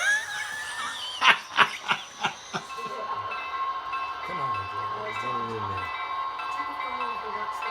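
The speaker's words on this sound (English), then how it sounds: "So you can hear they're still running the trains." Sharp clacks in quick succession give way to a hissing rumble and a short whistle-like tone as model trains run on a nearby layout.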